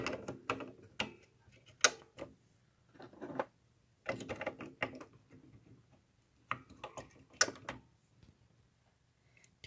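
HP printer ink cartridges clicking into the carriage, with a series of sharp plastic snaps and short mechanical rattles in separate bursts, close and fairly quiet.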